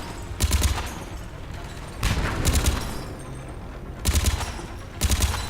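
Semi-automatic weapon fire in the video game Mass Effect 3, heard as four separate bursts of rapid shots spaced a second or two apart, loud and up close with no talking.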